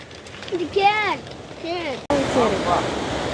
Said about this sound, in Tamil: தண்ணி பாருங்க எப்படி பாயுதுண்டு